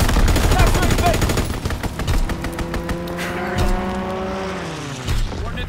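Artillery firing on a target in Call of Duty: WWII, with heavy booms and dense rapid gunfire over a steady droning engine, loud and busy throughout.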